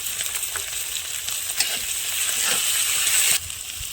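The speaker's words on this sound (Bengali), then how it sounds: "আমাদের মশলা কষা প্রায় হয়ে গেছে" Spices sizzling and frying in a pan with ginger, garlic, chopped tomato, cumin and coriander powder, a steady close hiss with faint stirring scrapes, no voices over it.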